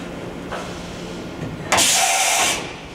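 A Mori Seiki NV5000 CNC vertical machining center with a 30-tool changer makes a brief tool change: a low machine hum, then a loud, sudden burst of air hiss lasting under a second before it fades back to the quieter hum.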